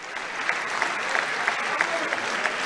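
Sustained applause from deputies filling the French National Assembly chamber, a dense continuous roar of many clapping hands, loud and even throughout with faint voices mixed in.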